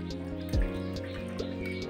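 Freshly made chhana, the Bengali cottage cheese, rinsed with water in a small strainer: a handful of light drips and splashes over a low, steady background hum, with no talking.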